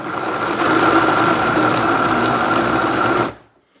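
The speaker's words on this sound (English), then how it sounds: "I could turn on the vacuum blender again" A vacuum blender with Japanese-style blades runs at a loud, steady motor whir for about three seconds before spinning down to quiet.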